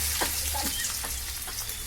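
Chopped onion dropped into hot oil with cumin seeds, chili and bay leaf, a bright continuous sizzle with a few soft stirring scrapes, close and alone.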